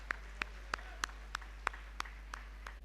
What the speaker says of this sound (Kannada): ಇದನ್ನು ಜೋರಾಗಿ ಚಪ್ಪಾಳೆಯ ಮೂಲಕ